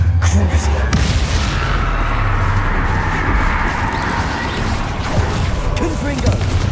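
Spell blasts go off in Hogwarts Legacy amid heavy combat, a dense continuous barrage of booming impacts and crashes, loud and close throughout, with a voice speaking over the din.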